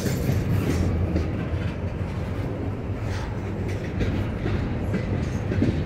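A freight train carrying a KCS hopper car rolls past on a mainline, with a loud, continuous rumble and rhythmic wheel clatter from start to finish.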